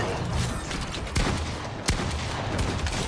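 Pump shotgun blasts in the game Fortnite, two sharp, loud reports about a second apart standing out from a busy backdrop of clattering mechanical noise and distant shooting.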